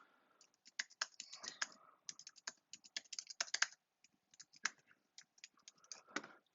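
A name being typed on a computer keyboard in quick bursts of light clicking keystrokes, with brief pauses between words, close and fairly quiet.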